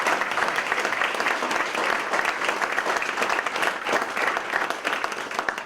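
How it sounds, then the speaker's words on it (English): Audience at a senior awards breakfast giving a sustained round of applause, dense steady clapping from many hands throughout, filling the room without any talk on top. "So how about a third round of applause for Claire and Susan?"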